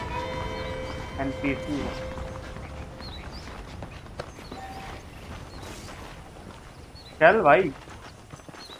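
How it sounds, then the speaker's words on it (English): Horse hooves clip-clopping in Red Dead Redemption gameplay, faint and intermittent beneath someone speaking, with brief in-game effects and a louder burst of sound near the end. "The horses are saddled up over here."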